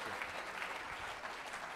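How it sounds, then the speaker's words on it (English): Brief burst of audience applause in a lecture hall welcoming a guest speaker, a steady patter of many hands, quiet and distant throughout. "So with a huge round of applause, may I please call upon Mr. Swapnakant sir"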